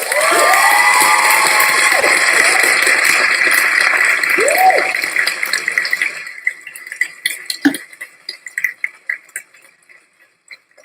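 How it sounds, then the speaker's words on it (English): A crowd of Year 1 children at a school assembly cheers and claps loudly and steadily, with high shouts, before the noise thins into scattered claps and calls. "So let's have a round of applause for all the children in Year 1 who returned this week."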